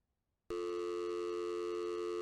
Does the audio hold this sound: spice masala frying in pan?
no